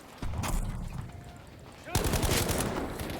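Video game gunfire with bullets whizzing past, sharp bursts of shots in two loud clusters, near and punchy, with a brief quieter stretch between them.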